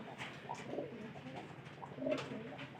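Pigeons coo softly with low, rounded calls, first near the start and then more clearly toward the end. The calls sound somewhat distant against quiet background noise.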